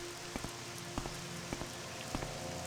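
Steady rain in the video game Morrowind, a continuous close hiss with a few soft drip-like ticks spaced about half a second apart.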